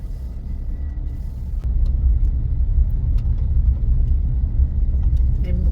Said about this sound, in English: I'm driving pretty fast. Faster than I normally would on this gravel road.